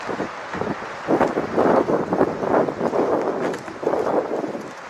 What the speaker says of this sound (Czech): Dneska mi tady začalo parádně foukat.